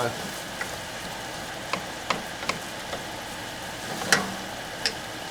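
Onions fry gently in a pan as they caramelise for a keto chicken korma, a soft steady sizzle broken by occasional light clicks and taps of stirring.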